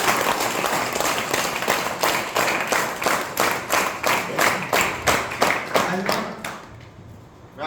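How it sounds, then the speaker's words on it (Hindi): An audience at a Grozep (Buy4earn) Sunday business meeting claps loudly in strong, rhythmic unison beats that carry on for several seconds before stopping abruptly near the end. "एक बार जोरदार ताली हो जाए।"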